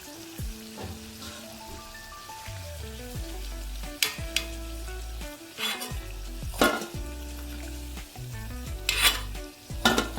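Samosas fry in hot oil in a pan, a loud continuous sizzle and bubbling broken by several sharp utensil clanks and scrapes against the pan, with no voices.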